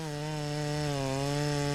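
A ported Farmertec Stihl MS660 chainsaw runs steadily while milling a log, a loud, close, sustained engine drone holding a constant pitch throughout with no talk over it.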